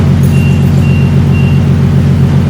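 Nissan 370Z fitted with an ISR exhaust, its engine rumbling loudly and steadily up close with a deep, throbbing low drone and no voices over it.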